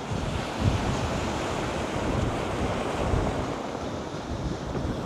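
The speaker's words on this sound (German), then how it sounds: "Außer, dass wir hier doch ziemlich viel Wind haben" Strong wind roars continuously on the beach at Maspalomas, buffeting the microphone with gusty rumbling over a constant wash of surf.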